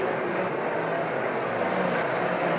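Dirt modified race cars in a 2018 Super Dirt Car Series race at Brewerton Speedway make a continuous, even roar of engines in the distance, with no talk in the clip.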